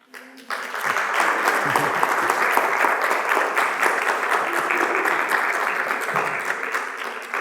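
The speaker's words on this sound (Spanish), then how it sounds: "yo quisiera que se le diera un aplauso" An audience at an arts conference breaks into applause for a museum's founder: dense, sustained clapping that starts abruptly after a brief quiet moment and stays loud and even to the end.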